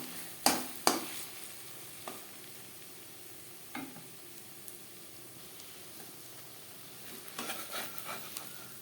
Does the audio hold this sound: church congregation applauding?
no